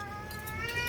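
A household cat meows and cries near the microphone, a drawn-out plaintive call rising partway through over a steady background hum.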